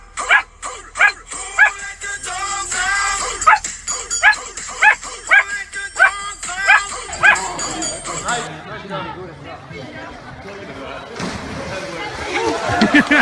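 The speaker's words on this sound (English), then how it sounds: "Like the dog sound." A dog barks repeatedly in sharp, loud, evenly spaced yaps for about eight seconds, followed by a stretch of mixed background noise and voices.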